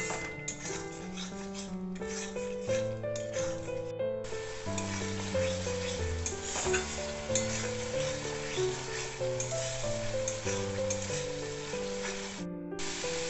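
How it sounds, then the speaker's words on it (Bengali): Garlic spice paste fries and is stirred in a pan, giving a steady, close sizzle under continuous background music. "মশলাটা একটু কষিয়ে নিতে হবে"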